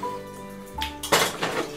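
Dishes clink and a spoon rattles against them in a kitchen, close and fairly loud, with a sharp metallic clatter near the end and no voices.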